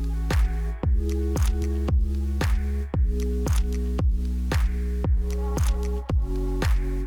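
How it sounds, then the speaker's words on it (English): A chill chord progression played on a synth over a little drum beat, with steady punchy kicks and clicky hits in a regular rhythm and sustained chords changing every couple of seconds. "I actually took these chords and converted them to a synth to see if I could make that same chill"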